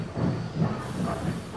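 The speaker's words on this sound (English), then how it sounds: "Gordon steamed into the station to collect the Northwestern Splendor." A steam locomotive rolling into a station, with a rhythmic chugging and rumbling over the rails and a faint hiss, close and steady with no talk.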